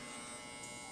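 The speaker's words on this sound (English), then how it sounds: "This one kind of has a little bit more, you know, a hum, a buzz to it" A Shorty compact hair clipper with an Eon motor runs with a steady, close electric buzz and hum, quiet and even.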